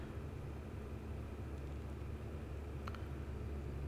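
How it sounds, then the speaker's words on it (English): A small fixed-wing airplane on landing approach to a grass field, its engine a constant loud droning rumble from inside the cockpit as throttle is added, with a brief faint click partway through. "I'm getting a little low, so I'm just going to add some throttle here."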